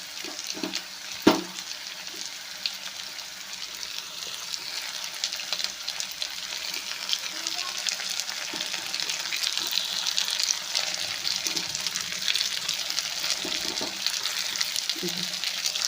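Brinjal (eggplant) pieces frying in oil for a North Karnataka ennegayi dish: a steady, dense sizzle runs throughout, with a faint clink early on and a voice speaking softly over it.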